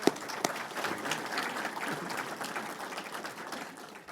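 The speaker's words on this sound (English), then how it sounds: "Let's get a big round of applause for our panel." Audience applause for an investment panel, a steady broadband wash of many hands clapping that holds at an even level for about four seconds, close and dense, with no talk over it.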